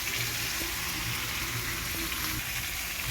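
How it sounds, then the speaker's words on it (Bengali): Diced potato and carrot fry in oil in a pan, making a loud, dense and unbroken sizzling hiss up close, with no voices. "আলুটা আর গাজরটা ভেজে দিলে খেতেও টেস্ট হয়"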